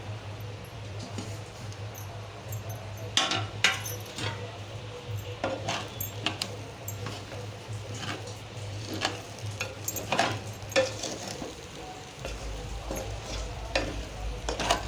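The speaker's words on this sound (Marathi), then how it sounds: "लो गॅसवरच असं परतून घ्यायचं" Puffed rice (sushila) is stir-fried over a low gas flame, giving a continuous soft sizzle broken by repeated scraping, tapping strokes of a spatula against the pan at an uneven rhythm.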